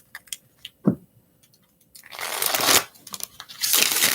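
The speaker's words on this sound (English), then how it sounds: "2 more shuffles" A deck of tarot cards being shuffled by hand during a reading, heard as two rough, papery bursts of riffling close by after some quiet handling, with no talking.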